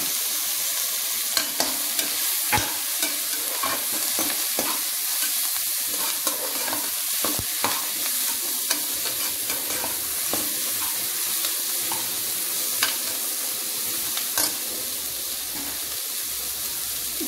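Cluster beans are stirred and sautéed in a pan, with steady frying sizzle throughout and repeated sharp scrapes and clinks of a spoon against the pan, close and moderately loud with no talking.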